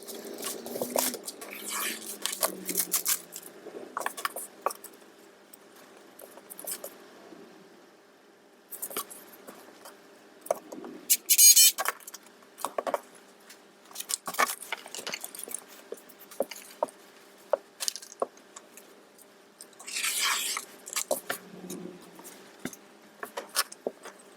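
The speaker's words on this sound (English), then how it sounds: "I have to cut them all" Scissors snip and material rustles while cutting pieces for hair tool bags, a string of short, close crisp cuts and handling noises with quiet pauses between them.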